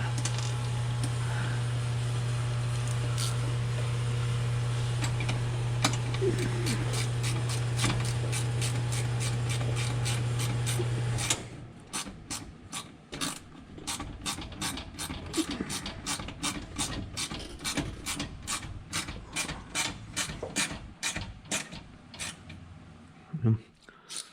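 A ratchet and socket tighten a fastener on an M998A1 Humvee during restoration. First comes a steady engine-like hum, then a long run of quick, close, sharp ratchet clicks in rapid rhythmic bursts.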